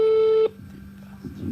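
A single steady telephone line tone sounds clearly for about half a second, then cuts off abruptly, leaving faint room noise.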